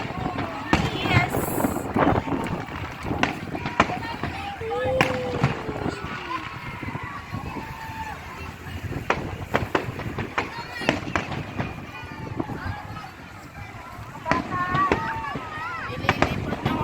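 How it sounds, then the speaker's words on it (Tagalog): New Year fireworks bursting outdoors on a windy night, with repeated sharp bangs and crackles scattered over steady wind rumble on the microphone, while people talk and cheer nearby throughout. "Nililipat ng hangin yung fireworks."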